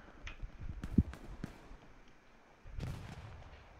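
Artillery fire in the video game Hell Let Loose: several sharp distant booms and bursts spaced irregularly over a quiet battlefield background, with a louder rumbling impact near the end.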